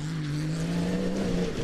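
Engine of a BMW X3 Proto rally car, a sustained loud roar that holds a steady pitch before dropping slightly near the end, close by, no talking.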